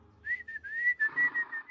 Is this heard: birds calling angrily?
no